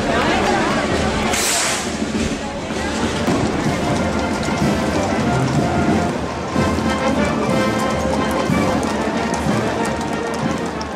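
Steady rain pattering down throughout in El Rocío, Huelva, a dense hiss of drops on surfaces with a brief sharp noise near the start.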